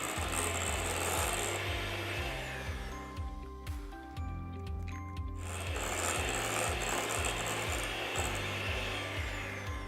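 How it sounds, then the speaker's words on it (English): Electric mixer whirring through cake batter with eggs being added, in a steady buzzing drone with a regular pulsing beat, pausing briefly in the middle before running again. "when you're using an electric mixer"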